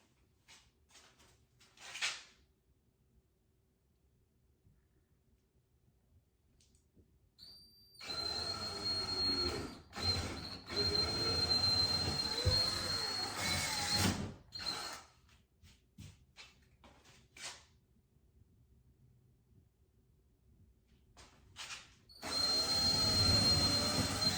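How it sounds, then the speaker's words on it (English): A power drill drills holes into a wall in several bursts of a few seconds each, with a brief one early on and longer runs later, close and loud. "let's go ahead and drill these holes"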